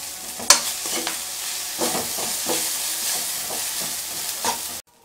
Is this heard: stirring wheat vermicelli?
yes